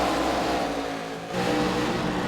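ARCA Series race cars accelerate at Daytona, a loud, close, sustained engine roar with layered harmonic tones that dips briefly before swelling again.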